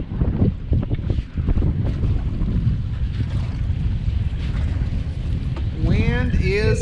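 Strong wind buffeting the microphone out on open water while fishing for catfish from a boat on a river, a steady roaring rush throughout with a voice talking over it.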